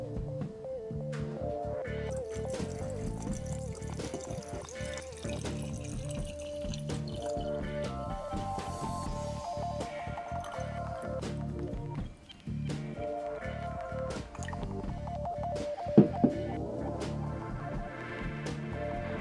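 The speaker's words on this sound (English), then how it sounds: "So now what I'm going to do is I'm going to add my white vinegar" White vinegar poured into a jar of rusty nails, a steady liquid trickle with light dripping running throughout at moderate level and a couple of small clinks near the end.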